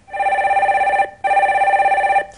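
Telephone ringing on a radio call-in show as a caller is connected, two loud, steady electronic ring bursts with a short gap between them, heard alone without talk.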